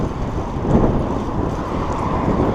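Steady low rumbling buffet of sea wind hitting a camera microphone while cycling, loud and continuous throughout, with no voices.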